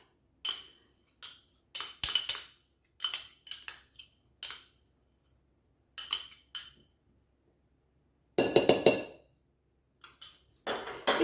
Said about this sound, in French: je vais racler ça donc avec une cuillère à café